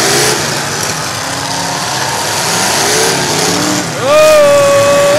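Race cars on a dirt track at a racing event, a loud steady wash of engine roar with rising and falling engine tones, one car revving sharply near the end, a voice talking briefly over it.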